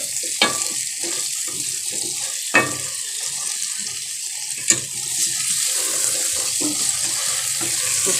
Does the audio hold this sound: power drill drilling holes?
no